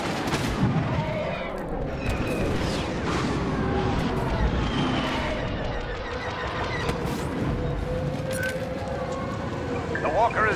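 Y-wing attack-run explosions in Star Wars Battlefront, set on Sullust, form a dense, continuous barrage of booms and blaster fire. Wailing tones rise and fall over it, and a voice talks through the noise.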